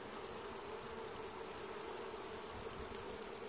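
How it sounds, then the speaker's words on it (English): Dense, steady buzzing of honey bees swarming around a hive during orientation flights, a continuous close drone with no voices, faint insect chirring in the background. "See the circling motion of the bees as they go round and round the hive, getting oriented to the hive"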